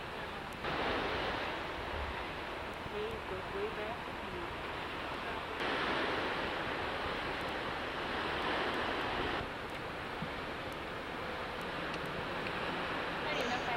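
Steady rushing surf on the Oregon shore, broad and continuous, with swells of louder wash rising and falling over a windy background.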